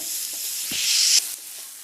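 Curry leaves dropped into a frying coconut-and-spice masala for a noolappam dish, a close, bright crackling sizzle that swells as they hit the oil and then eases back, alone without voices.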